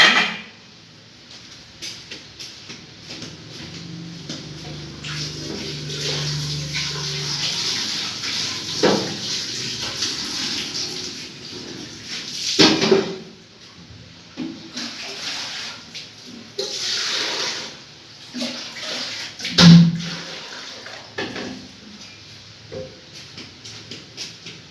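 Water runs and splashes into a metal cooking pot, filled about halfway, pouring unevenly with a few clanks and knocks, close by and moderately loud.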